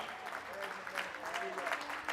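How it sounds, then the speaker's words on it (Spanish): A congregation applauding during a daily prayer service, continuous overlapping clapping with voices mixed in, moderately quiet and somewhat distant. "Denle ese aplauso a Él."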